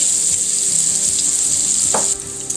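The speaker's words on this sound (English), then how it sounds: "let's cook this until it's translucent" A medium chopped onion fries in a pan with a steady, close sizzle and soft crackle throughout, a brief stir or scrape near the end.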